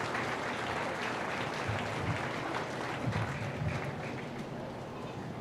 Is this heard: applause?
yes